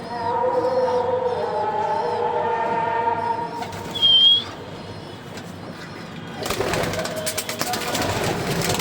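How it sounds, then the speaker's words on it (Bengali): Racing pigeons in a flying room coo and murmur in low, overlapping calls, with a brief sharp whistle-like sound partway through. Rustling and shuffling noise follows near the end. "ফ্লাইং রুম কবুতর ছাড়া হয়েছিল, কবুতরের খাবার দাবার শেষ, এখন রিল্যাক্সে আছে"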